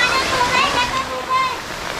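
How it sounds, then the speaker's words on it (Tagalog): Steady hiss of heavy rain falling at a lakeside campsite, constant and fairly loud, with a voice speaking over it. "Umuulan na."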